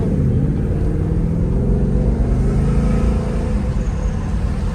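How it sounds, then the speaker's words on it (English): A 2024 Ford Mustang EcoBoost with its stock exhaust rumbles from inside the car while driving, a continuous low, steady engine and exhaust drone with little variation and no talking. "You can hear the exhaust note pretty well."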